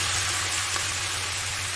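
Chicken breast hits a hot pan of onions sautéed until brown and sizzles with a steady, close, dense crackle, with no talking over it.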